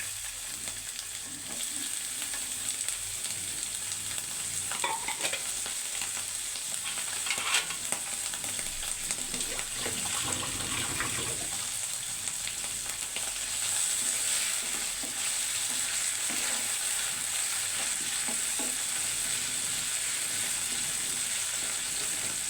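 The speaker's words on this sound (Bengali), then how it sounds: "সরিষার তেল দিয়ে আমি এখন দিয়ে দেবো কাঁচামরিচ আর পেঁয়াজ একটু ভেজে নেব লাল করে" Green chilies and onions fry in hot mustard oil with a sustained, even crackling sizzle and scraping stirs of a spatula throughout.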